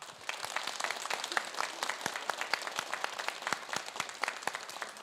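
An audience applauding to welcome a guest speaker to a talk, steady dense clapping from many hands, moderately distant, lasting throughout.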